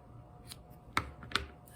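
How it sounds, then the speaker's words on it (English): Scissors snip through yarn loops in a craft project, two quick, sharp, close cuts against a quiet background. "And then I'll have to cut these loops at the end."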